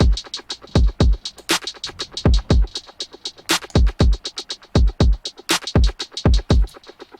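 A drum kit programmed for a beat plays a steady groove of kicks and snappy snare or clap hits with quick hi-hat ticks in between, close and punchy, with no voices.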